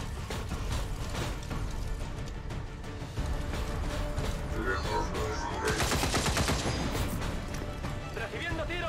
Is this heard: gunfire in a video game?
yes